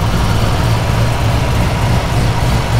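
A 2012 Chevrolet Camaro ZL1 idles steadily, a loud, constant low rumble with no revving or breaks, heard close and alone without talk.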